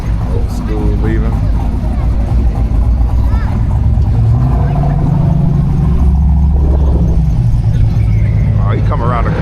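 A Ford Mustang takes a corner at a car event, its engine a loud, rumbling roar that swells as it passes, with crowd chatter and voices over it.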